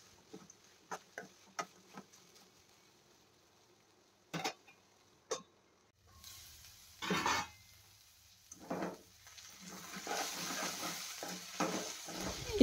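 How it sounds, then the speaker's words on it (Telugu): Ivy gourd pieces frying in a pan, sparse scattered ticks and taps of stirring at first, then a steady louder sizzle with repeated scraping strokes building toward the end. "ఇప్పుడైతే కొద్దిగా తేమ శాతం తగ్గి దొండకాయ ముక్కలు అయితే మంచిగా ఫ్రై అవుతున్నాయి."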